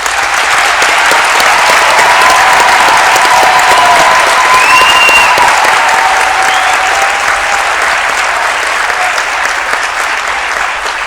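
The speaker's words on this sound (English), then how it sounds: "invite the audience to give you a warm round of applause for your achievements" A loud, sustained round of applause fills the hall from a large audience at a university graduation ceremony, dense, even clapping with faint tones from a sound system above it.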